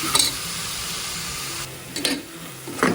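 Ground tomato paste sautéing in a pan for prawn biryani gravy, a steady soft sizzle and hiss with a few brief stirring scrapes near the end.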